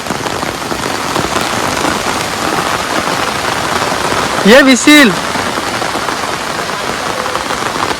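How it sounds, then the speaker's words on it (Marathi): Heavy rain pours steadily and loudly, a dense continuous hiss, with a brief whistle-like call and a few spoken Marathi words midway. "पाऊस जोरात आलाय खालून"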